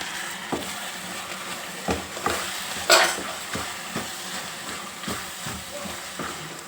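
Tomato and fenugreek curry stirred in a pan, a spoon scraping in irregular strokes over a steady frying sizzle, with one sharper clatter partway through.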